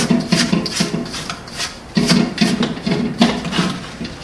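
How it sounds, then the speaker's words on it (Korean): A spatula scrapes the sides and bottom of a stand mixer bowl holding creamed fruit cake batter with eggs, giving repeated close rasping strokes in an uneven rhythm with no talking. "믹서볼의 옆면과 바닥을 긁어주는 스크래핑을 하시고요."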